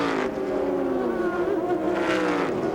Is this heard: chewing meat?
no